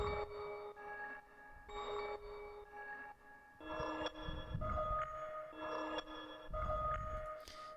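Synth bells from Omnisphere, pitched one octave lower, ring out in a sequence of clear tonal strikes, each note sustaining briefly before the next, with deeper bass hits entering midway.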